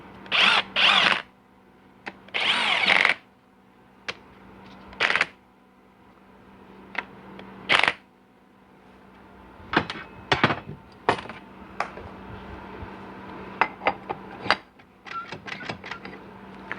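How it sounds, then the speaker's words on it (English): A power tool runs bolts down into a 4L60E transmission upper case in bursts of whirring, separated by pauses and scattered clicks and taps of parts being handled. "Run our 2 bolts down just to make sure that we've got"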